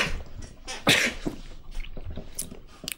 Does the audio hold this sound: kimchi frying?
no